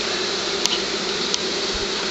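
A honey bee swarm of survivor stock hums in a home yard, a close, steady, dense buzz with a couple of brief ticks and no talk.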